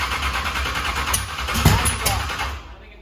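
A Chevy S10 engine cranking over with a steady low churning drone that rises slightly as it catches, close and loud, with a brief clunk midway and a sudden cutoff near the end.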